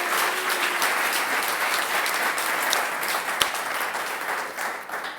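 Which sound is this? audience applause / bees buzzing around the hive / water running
audience applause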